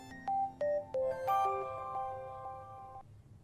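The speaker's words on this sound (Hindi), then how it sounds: "फोन आ रहा है आपका?" A phone rings in a short electronic melody of repeating bright tones, fairly loud and close, alone with no talk over it.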